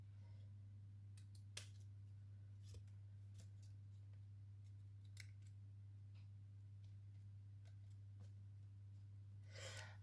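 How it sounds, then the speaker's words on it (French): Scissors snip through paper in a series of faint, crisp cuts spread irregularly over ten seconds, heard up close over a low, steady hum. "Je découpe le reste"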